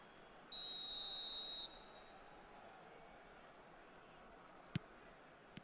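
A referee's whistle signals half-time in the eFootball PES 24 football game, one clear, sustained shrill blast of about a second over a quiet crowd bed, followed later by a brief click.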